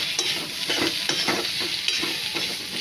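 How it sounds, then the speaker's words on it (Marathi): Takla wild greens fry with onions in a pan, a steady sizzle broken by repeated scraping strokes of a spoon stirring at an even rhythm, close and moderately loud. "व्यवस्थित ढवळून घ्यायची भाजी. कांद्यामध्ये व्यवस्थित"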